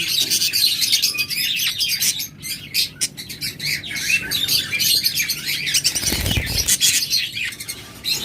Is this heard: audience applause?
no